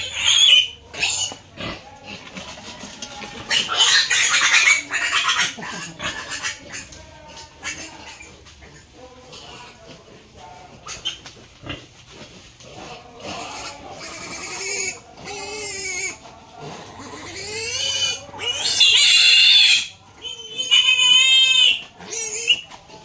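Piglets squeal loudly and shrilly in repeated high-pitched bursts during vaccination on a pig farm, with grunts and shuffling between the cries, close by.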